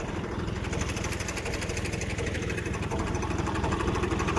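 A tractor engine chugs steadily nearby, a loud, even rumble with a rapid regular pulse while a loader fills its trolley during land-levelling work, with no talking heard.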